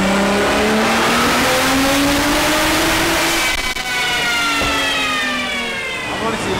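An 1889 hp Nissan GTR roars through a dyno pull, its loud, close engine note rising smoothly and continuously. A brief dip comes midway before the howl climbs again.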